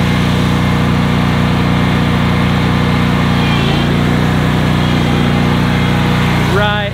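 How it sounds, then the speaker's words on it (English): A Wright robot lawn mower's engine runs on steady and loud while being driven back and forth by remote control, a dense, unbroken drone with a brief pitch shift near the end. "So I can actually move the mower around if I want to with the remote, move it forward, move it back,"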